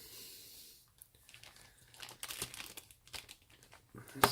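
Close, crinkling and tearing of small plastic bags of screws from a Trumpeter 1/35 Challenger 2 model kit being cut open, irregular rustles and snips building toward a sharper final crackle.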